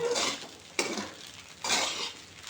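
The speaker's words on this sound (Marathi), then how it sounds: "तर आता हे आपण अजून थोडंसं खालीवर करून मिक्स करून घेऊया" Sabudana khichdi stirred in a pan, with three broad scraping sweeps of a spoon against the metal over a faint sizzle, close and clear.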